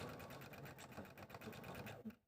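A sewing machine stitches fabric squirrel pieces together in a quick, even run of needle strokes, close and fairly quiet, stopping abruptly at the end.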